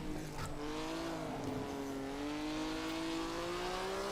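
A Maserati 250F laps the Nordschleife in a sim racing game. Its engine climbs steadily in pitch as it accelerates, a continuous, fairly faint howl with a slight dip and recovery early on.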